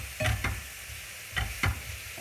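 Ground meat cooks in a pan, a soft low sizzle broken by a few scraping stirs in two pairs, quiet and close with no voices.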